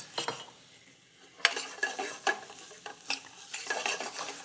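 Chicken drumsticks stirred and turned in spiced oil in a pan for a braise, with a steady sizzle under repeated scraping and clinking strokes of a utensil, close and moderately loud, no voices.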